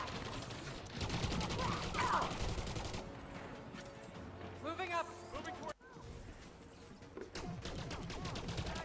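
Rapid weapon fire from Elite Dangerous: Odyssey combat rattles in the opening seconds, then gives way to quieter effects and game sounds with a voice speaking intermittently over them.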